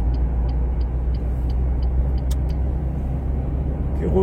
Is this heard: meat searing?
no